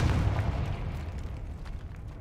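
Confringo fire spell cast in the video game Hogwarts Legacy, a loud, dense booming blast at the start that rolls into a sustained rumbling roar throughout.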